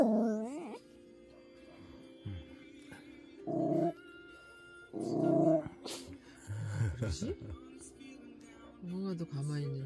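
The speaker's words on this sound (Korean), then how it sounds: "누가 짖지?" A small pet dog gives a few short growls and low grumbling vocal bursts in a home, interspersed with people talking over and between the sounds.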